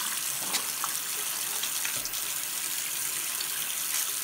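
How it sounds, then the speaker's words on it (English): Water runs steadily from a tap into a sink during handwashing, a continuous close hiss with faint splashes as hands move under the stream and no talking. "Okay, we're gonna wash my hands."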